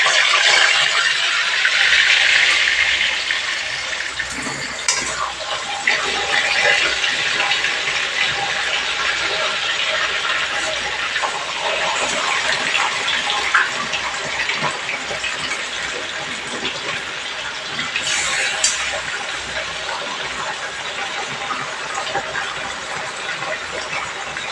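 Green mangoes eased slowly into a pot of water during pickle making, giving a steady broad watery rush with splashing and churning that runs throughout at fairly loud level, with no talk.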